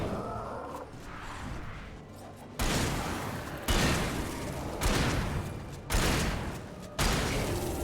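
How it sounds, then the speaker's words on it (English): Pump-action shotgun blasts in the video game Alan Wake Remastered: five loud, booming shots at roughly one-second intervals, each with a sharp attack and a rumbling tail, after a quieter stretch of game ambience. "This is the shotgun."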